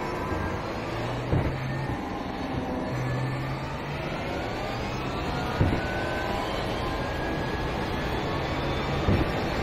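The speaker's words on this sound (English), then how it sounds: "when you hear that turbo on that electrical engine noise" Sustained race-car engine drone from an Audi R18 e-tron quattro LMP1 hybrid prototype with turbo and electric motor in iRacing, a steady whining roar with faint higher harmonics and a few brief louder bumps.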